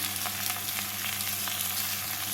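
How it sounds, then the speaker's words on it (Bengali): Vegetables for a tangra fish chochori fry lightly in a pan with a steady, close hiss of sizzling oil and occasional soft crackles, no voices present. "সবজিগুলোকে হালকা করে ভেজে নিয়ে"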